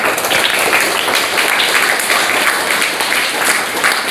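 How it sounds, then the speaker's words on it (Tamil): Dense, loud applause from an audience at a temple Navaratri talk, steady sustained clapping throughout with no pause. "எல்லாரும் நல்ல கைதட்டலாம்"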